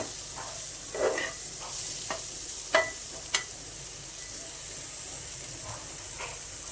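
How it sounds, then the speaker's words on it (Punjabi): Spices are stirred and mixed in a pan of sizzling vegetables, with a soft steady sizzle and a few scraping, clinking strokes of a spoon against the pan, close and without talk. "ਹੁਣ ਆਪਾਂ ਸਾਰੇ ਮਸਾਲਿਆਂ ਨੂੰ ਚੰਗੀ ਤਰ੍ਹਾਂ ਮਿਕਸ ਕਰ ਲਾਂਗੇ ਇਸ ਤਰੀਕੇ ਨਾਲ"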